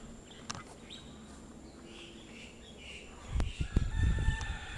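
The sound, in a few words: rooster crowing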